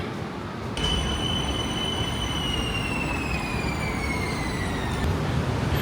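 A subway train rumbles through a Bangkok metro station with loud, continuous noise and high metallic squeals from the wheels that slowly fall in pitch, then cut off.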